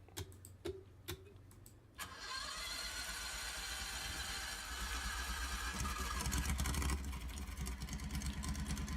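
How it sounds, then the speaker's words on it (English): A Harley motorcycle engine starting: a few clicks and starter pulses, then the engine catches and settles into a steady, rumbling idle close by. "Oh yeah, that sounds like a Harley."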